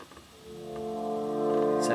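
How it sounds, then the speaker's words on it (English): Orchestral brass section swelling into sustained, big trombone chords, rising steadily in loudness over two seconds, ending in a bright peak, no voices. "most of the power in that section is actually coming from my brass"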